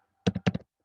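Quick keystrokes on a computer keyboard while entering commands in a Bash shell on a Raspberry Pi: two pairs of close, crisp taps in a short burst, then quiet.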